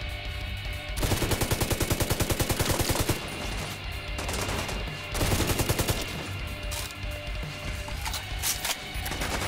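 Rapid automatic gunfire in the shooter game The Division 2: two long rattling bursts of evenly spaced shots, plus scattered single reports over a dense battle background.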